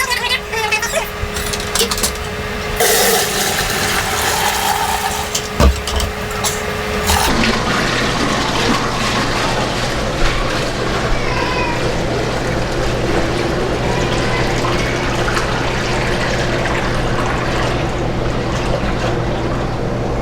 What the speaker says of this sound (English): I'm going to run it through the strainer one more time just to make sure.